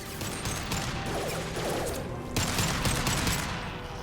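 Gunfire in the video game Mass Effect 2 pours out as a dense, continuous fusillade of rapid shots and mechanical clatter, loud and steady for several seconds.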